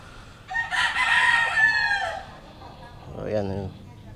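A fighting rooster crows loudly nearby in one long strained call, followed after a pause by a shorter, lower clucking burst, with faint background noise.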